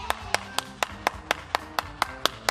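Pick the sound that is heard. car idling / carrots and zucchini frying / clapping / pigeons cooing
clapping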